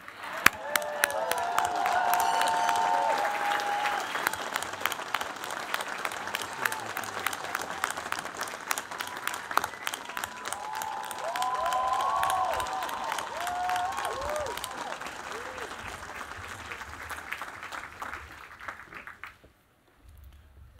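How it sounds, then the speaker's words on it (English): A large commencement audience at Bucknell University's 2019 graduation ceremony applauds in a long, steady, even round that swells again midway with scattered cheers, then fades out near the end. "A round of applause for Jonathan Chief's mother."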